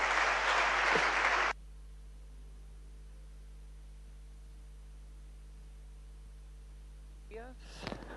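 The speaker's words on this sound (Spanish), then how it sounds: "Por favor, un aplauso para él." A short burst of conference audience applause cuts off abruptly, leaving a low steady electrical hum, with brief faint voices near the end.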